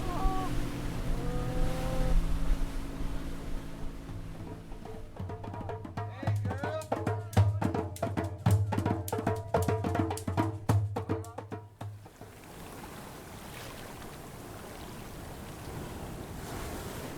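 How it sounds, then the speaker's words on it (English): A steady fizzing hiss of countless tiny bubbles bursting in a natural sea-water jacuzzi at Mazunte, Mexico, under surf and wind noise, with a rhythmic mechanical thumping in the middle stretch. "That is the rupture of millions of tiny bubbles in a natural jacuzzi here in Mazunte"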